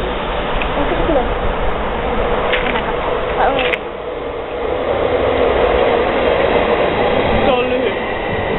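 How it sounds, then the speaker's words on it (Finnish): A train pulls into a station in Finland on a winter day, its steady rumble and clatter filling the clip at close range, with a few brief squeals and a voice speaking over it. "Nyt tulee juna. Jee, sieltä se tulee."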